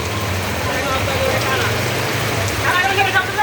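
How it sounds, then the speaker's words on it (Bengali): Steady, dense rain pours down with a constant hiss and patter on surfaces, loud and unbroken throughout. "অনেক বৃষ্টি হতেছে"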